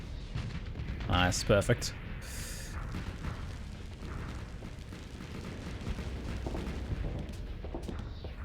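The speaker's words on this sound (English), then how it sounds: "Let's drop it with some missiles." Missiles launch and detonate in the space combat game Starsector, heavy rumbling booms and crackling blasts rolling over a dense battle din, with someone talking briefly over it.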